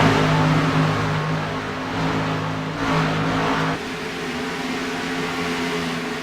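Xfinity race cars in a sim racing video game at Autoclub Speedway, a sustained droning engine whine with steady pitch that swells and then drops away as the pack passes.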